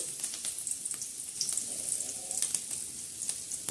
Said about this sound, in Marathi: आता कढीपत्ता हा छान असा म्हणजे तडतड होत आहे तडक्यासाठी